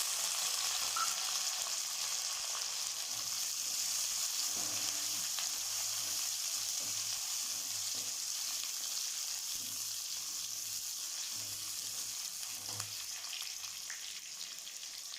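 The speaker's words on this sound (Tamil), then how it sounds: "பூண்டு போட்டு நல்லா வதக்கிட்டு" Small onions and crushed garlic fry in hot oil for a Pondicherry fish curry, giving a steady, close, even sizzle that holds without a break and has no voices over it.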